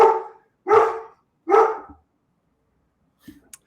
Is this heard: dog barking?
yes